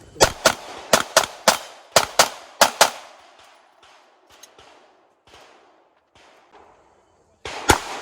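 Glock pistol gunfire at a GSSF shooting match, a rapid string of about ten loud, sharp shots, then quieter distant pops from other shooters, and one more loud close shot near the end.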